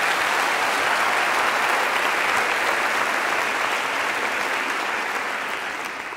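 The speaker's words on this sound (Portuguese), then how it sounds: "Uma salva de palmas para ele." Loud, dense audience applause fills a stand-up comedy show, a steady wall of many hands clapping that holds for several seconds before easing off slightly at the end, with no talk over it.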